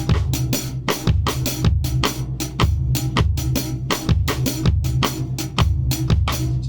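A drum kit plays a syncopated salsa groove, bass drum and snare hits interlocking with a son clave pattern over steady cymbal, repeating for several bars.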